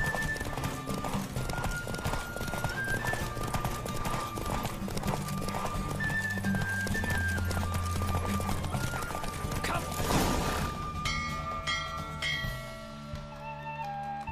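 Galloping hooves clip-clop in a fast, steady rhythm alongside a horse's whinny in The Witcher 3, with music playing throughout and a brief swell near the end.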